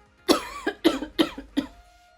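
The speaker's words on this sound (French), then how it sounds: "je commence à tousser" Four sharp coughs in quick succession, close and fairly loud, from someone breathing in very fine luxury makeup powder.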